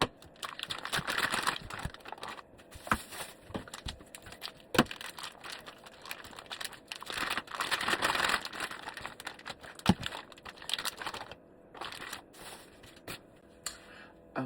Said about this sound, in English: this is how I take the membrane off my ribs